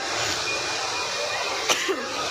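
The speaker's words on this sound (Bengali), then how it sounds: "প্রচণ্ড কাশি হচ্ছে।" A single short cough, then a second fainter one, from a person standing outside in a cold wind. Both come near the end over a steady, loud rush of wind noise.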